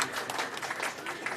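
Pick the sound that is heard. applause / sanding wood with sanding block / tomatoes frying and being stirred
applause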